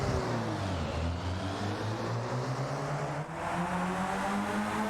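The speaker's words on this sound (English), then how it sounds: "Everybody's on the grid, the engines are revving" Race car engines in a racing video game revving together on the starting grid at VIR and then launching off the line, a loud continuous engine drone climbing in pitch as the cars accelerate, with no talk.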